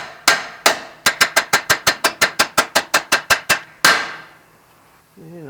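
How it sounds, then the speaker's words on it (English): A hammer taps lightly on a Subaru lower control arm in a garage. Two sharp metallic knocks come first, then a fast, even run of about fourteen clanging taps, then one final strike and a short quiet tail. "Don't tap on the lower ball joint nut, just tap on the actual arm itself."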